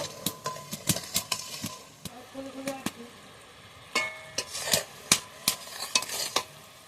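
Sugar syrup with cardamom boils in a pan for besan laddu, heard as an irregular, close patter of bubbling pops and sharp utensil clicks over a low simmering hiss, with no talking.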